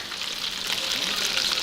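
Caspian Sea white fish frying in a pan for lunch at an Iranian street food spot, a steady close hiss and crackle of hot oil running throughout.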